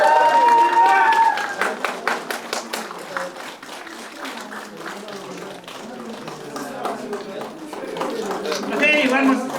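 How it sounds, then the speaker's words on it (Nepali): An audience at a graduation ceremony in Pokhara claps steadily for a student, with a speaker talking over the applause throughout. "ताली ताली बजाइदिनु।"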